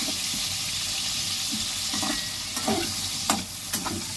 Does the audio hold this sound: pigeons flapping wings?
no